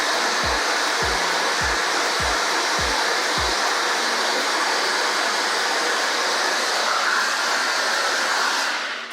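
A hair dryer with a diffuser attachment drying curly hair gives a loud, steady, close rushing roar that runs throughout, with a few low soft thumps early on and no talking.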